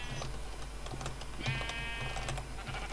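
Sheep bleats in the Minecraft video game, several short calls scattered over steady background game noise and faint clicking, moderately loud.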